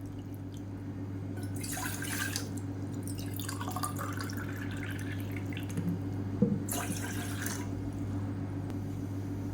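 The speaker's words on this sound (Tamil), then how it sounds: "இப்போ ஒரு சாஸ்பேன் எடுத்துக்கலாம் இதில் வந்து ஒரு இரநூறு எம்எல் அளவுக்கு தண்ணி சேர்த்துக்கலாம்" Water poured into a saucepan, about 200 ml, heard as a steady close trickling and splashing that swells in two bursts over a constant low hum, with no talk.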